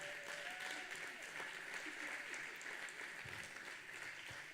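Clapping from a church congregation rolls on steadily, a faint, diffuse patter of many hands with a few louder thumps and murmured voices underneath.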